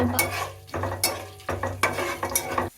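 Cashews, cardamom, chana dal and urad dal stirred and fried in oil for vegetable pulao, with a spoon scraping the pan in several bursts over a steady close sizzle.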